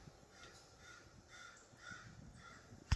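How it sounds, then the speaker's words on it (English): A large black crow calls outdoors near a tree, giving several raspy caws spread across a few seconds at moderate distance over steady background noise. "The big black bird."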